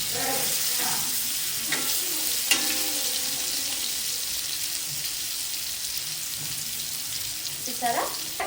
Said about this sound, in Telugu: మనకి చేప కడక్కు అయ్యేదాకా ఫ్రై చేసుకుంటే బాగుంటుంది అనమాట